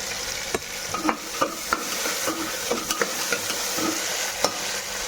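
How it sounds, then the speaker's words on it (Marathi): Masala rice stir-fried in a pan, a continuous sizzle punctuated by regular scraping and clinking strokes of a spoon against the metal, close and steady with no voices. "चांगलं परतून घ्यायचं आता."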